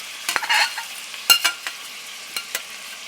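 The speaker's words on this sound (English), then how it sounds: "Now I'm going to come in with my sauteed veggies." Sauteed vegetables cooked in olive oil hit a hot pan while making American goulash, giving a brief sizzle followed by scattered scrapes and clacks of stirring, close and fairly loud, with no talking.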